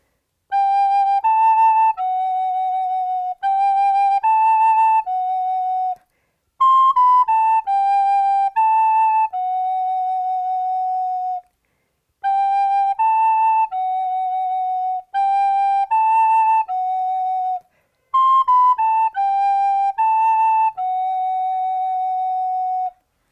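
A recorder plays a simple, steady melody in clear, pure tones, repeating the same short phrase several times with pauses between.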